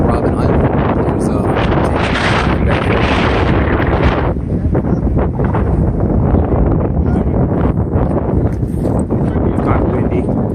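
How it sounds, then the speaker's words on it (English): Strong wind buffets the microphone on Robben Island off Cape Town, a loud continuous roar with rumbling gusts that swell and dip throughout, with no other sound breaking through. "kind of windy"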